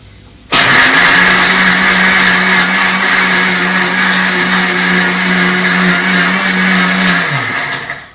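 A kitchen mixer grinder blends at full power while Iftar dishes are prepared, switching on sharply and holding a loud, steady motor whine for about seven seconds before winding down at the end.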